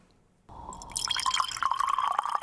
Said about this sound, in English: we pour the tequila